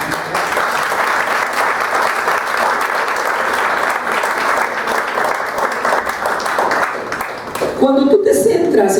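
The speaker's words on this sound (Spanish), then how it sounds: "Denle un aplauso a Dios." A church congregation breaks into sustained, loud applause that fills the room for about eight seconds, then thins out as the noise settles into a murmur near the end.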